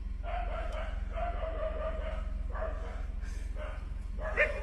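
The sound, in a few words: dog barking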